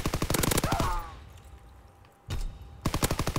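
FG-42 gunfire in the Call of Duty WWII video game: two rapid bursts of automatic fire, loud and close, separated by a quieter gap with a brief burst in the middle.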